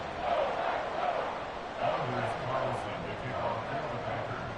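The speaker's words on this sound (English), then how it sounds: "This crowd alive again." A crowd in the stands at an American football stadium during a Saints at Packers game, a broad, distant roar of cheering rising and falling in swells beneath a commentator's voice.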